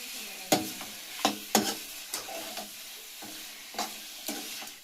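A spoon stirs a village-style fish curry (kalvan) in a pan, giving a handful of sharp scraping clinks at irregular intervals over a soft background sizzle, close and with no talking.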